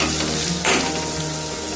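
Ginger garlic paste fries in a pan for a homemade liver gravy curry, giving a steady close sizzle with one brief louder hiss partway through.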